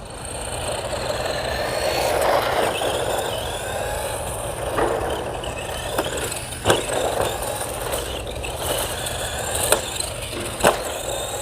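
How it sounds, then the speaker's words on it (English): A brushed electric motor in an RC truck spins freely with the wheels off the ground, a continuous close whine and buzz with scattered clicks and ticks rising through the run. "you can do that by just taking the vehicle and running it really light in the air so those brushes on the motor can kind of break in."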